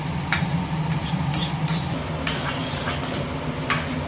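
Roadside-style chickpea sundal is stirred in a pot, with a steady close scraping and clinking of a spoon against metal over a continuous low sizzle and bubbling.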